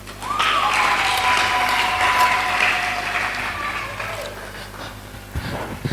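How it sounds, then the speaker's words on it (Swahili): A church congregation claps for Jesus during a sermon, a burst of applause that swells quickly and then fades, with an excited voice rising over it. "Tumpigie Yesu makofi"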